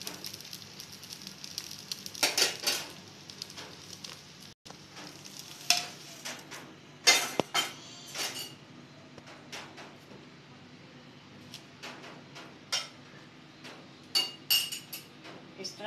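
A cooked leaf dish for a Konkani sweet called perwe is lifted from a pan onto a plate, with faint sizzling under a series of close metal scrapes and clinks from a utensil at irregular intervals.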